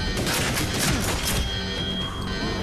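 Dense, rapid gunfire rattles in the Medal of Honor Warfighter shooter game, a loud burst of overlapping shots that eases off after about a second and a half into a quieter ringing tail.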